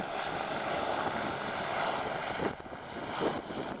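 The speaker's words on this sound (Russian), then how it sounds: "Это все частные вертолеты." Private helicopters at a heliport give off a continuous droning rotor and engine roar at moderate distance, steady for several seconds with a slight dip and swell near the end.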